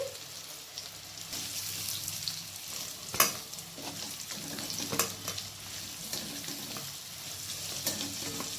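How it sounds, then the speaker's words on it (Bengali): Yam pieces fry in oil in a pan, a steady sizzle with occasional clinks and scraping stirs, close and moderately quiet, no voices. "ওলগুলো খুব সুন্দরভাবে ভাজা হয়ে গেছে"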